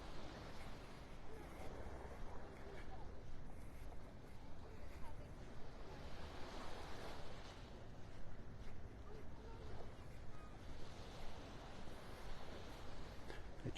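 Ocean waves wash onto a North Naples, Florida beach as steady broadband surf, with gusty wind noise buffeting the microphone throughout.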